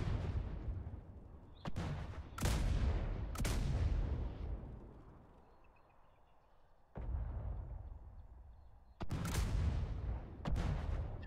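Mortar fire in the online PvP game Atlas, several heavy booming shots spaced a few seconds apart, each a loud thud with a rolling tail, sounding alone without talk.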